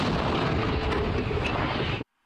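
A single loud, sustained blast of broadband noise from an artillery gun firing close by, roaring for about two seconds before cutting off abruptly.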